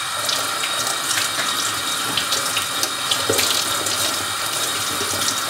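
A kitchen tap runs steadily as a glass of soaked lentils is rinsed, making a close, continuous gush of water with light splashing and irregular spatters throughout.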